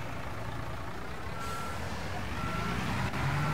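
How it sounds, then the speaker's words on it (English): A cement pump truck in the Construction Simulator 22 game sounds a repeating reversing beep over a steady diesel engine rumble, the beeps clear and evenly spaced, with no talking. "Cement pump truck."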